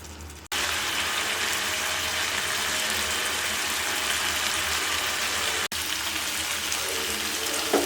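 Water poured into a pan of frying mutton liver sets off a sudden loud, continuous hissing sizzle that starts after a half-second and runs for about seven seconds, broken by one brief cut near the end.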